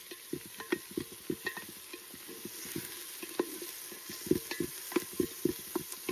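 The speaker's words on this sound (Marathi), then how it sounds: "तर ही लसूण पेस्ट आता बरी भाजावी" Garlic paste sizzles and fries in a pan over a wood-fired clay stove while a chicken dum biryani is prepared, with steady broadband crackle and frequent short stirring scrapes and clicks throughout, alone with no voices.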